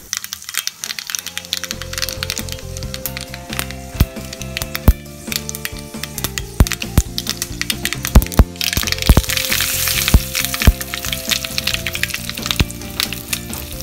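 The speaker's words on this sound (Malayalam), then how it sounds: "ഒരു തണ്ട് കറിവേപ്പിലയും ഒരു ടീസ്പൂൺ കടുകും എടുത്തു വെക്കുക. ഇനി ഇത് കാച്ചിയെടുക്കാം." Mustard seeds and curry leaves crackle and pop in hot cooking oil for a bilimbi pickle tempering, a loud, dense sizzle punctuated by sharp, irregular snapping bursts throughout.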